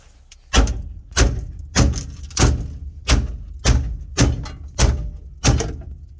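A hammer strikes parts repeatedly while a bench seat is installed in a Jeep XJ, nine sharp, loud, evenly spaced blows with dull thudding bodies and no talking.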